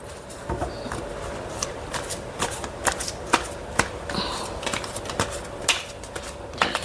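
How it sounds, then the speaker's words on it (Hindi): Tarot cards being shuffled and laid down on a surface, a series of sharp, quick slaps and flicks in an irregular rhythm, close and fairly quiet over a low background hum. "हमारे कार्ड को मैं जमा देती हूँ"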